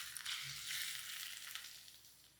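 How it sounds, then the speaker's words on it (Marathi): Hot ghee tempering poured over sweet saffron rice (zarda pulao) gives a faint, brief sizzle and crackle that fades away, with no voices. "यावर हा तुपाचा तडका घालूया."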